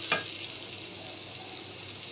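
Onion, garlic, black cumin and dry chilli fry in hot oil for a fish recipe, giving a soft continuous sizzle with a brief scrape of stirring near the start.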